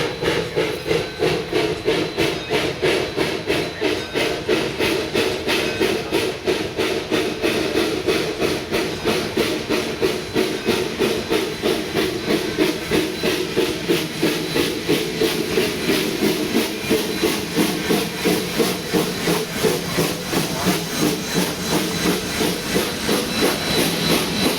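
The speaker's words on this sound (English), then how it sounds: "Colorado's oldest operating steam locomotive" Colorado's D&RGW steam locomotive No. 346 hisses steady steam close by, with a rapid rhythmic chuffing pulse running throughout at a constant loud level.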